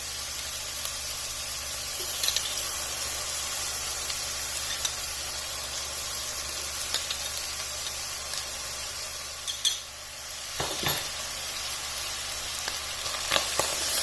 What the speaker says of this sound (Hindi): इन सारी चीज़ों को बहुत अच्छी तरह से मिक्स कर लेना